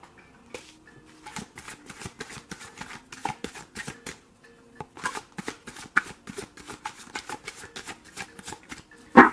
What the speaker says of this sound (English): That was a long shuffle.